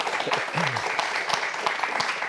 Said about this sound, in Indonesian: Boleh berikan tepuk tangan untuk Kang Menteri kita.